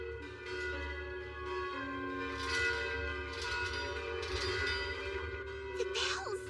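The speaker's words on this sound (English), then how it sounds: "I can hear the alarm bells ringing." Alarm bells ring out over a city in an action anime, a sustained metallic tolling hum with steady overtones, joined near the end by a brief shrill cry.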